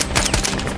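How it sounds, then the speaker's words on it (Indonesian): Gunfire in a special-forces action film: a dense burst of rapid shots packed close together, loud and continuous through the short moment, with no talk. "Clay masih mampu melepaskan tembakan untuk membantu rekan-rekannya."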